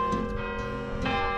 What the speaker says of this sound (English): following the sound of the bells is a good way to avoid getting lost in the old town.